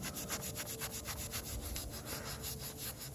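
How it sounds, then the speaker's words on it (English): A Magic Eraser soaked in isopropyl alcohol is rubbed gently over tree sap on a vinyl roof, a quiet rapid back-and-forth scrubbing in a steady rhythm, close by and without speech. "I'm soaking a Mr. Clean Magic Eraser. And I'm just very gently scrubbing these away."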